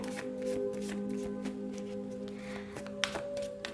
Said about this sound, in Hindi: तो शफल कर लेते हैं कार्ड्स